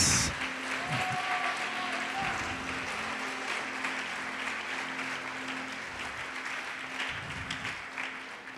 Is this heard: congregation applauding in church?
yes